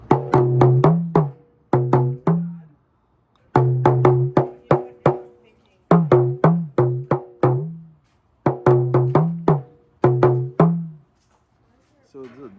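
Drum struck with a bare wooden stick and no cloth wrapping, giving crisp, sharp hits in quick rhythmic bursts of several strokes separated by short pauses, close and loud with no voices.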